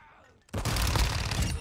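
Rapid full-auto bursts from the Fennec SMG in Modern Warfare 2, a sharp loud stream of fire starting abruptly after a brief quiet moment and continuing to the end.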